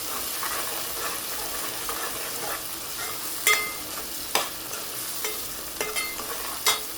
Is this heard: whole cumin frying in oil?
yes